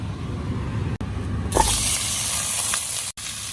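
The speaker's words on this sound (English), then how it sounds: "Add the spare ribs to the remaining oil. Sear the meat until brown on both sides." Spare ribs hit hot oil left in the pan for searing, setting off a loud, steady broadband sizzle that jumps in abruptly and holds through to the end, with no talk over it.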